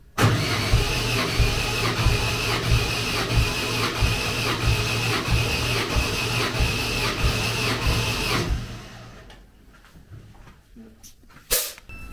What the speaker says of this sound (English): That to me didn't sound like it was turning over quick enough